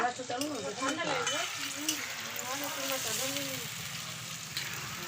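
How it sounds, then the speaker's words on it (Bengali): Vegetables, carrots among them, sizzle and fry steadily in a pan at a home picnic, with a constant crackling hiss throughout while voices talk over it. "আমার ননদ সব ভাজছে সবজিগুলো"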